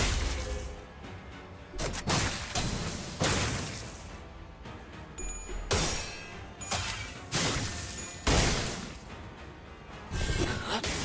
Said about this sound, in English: You're gonna hit us with the butt of the gun?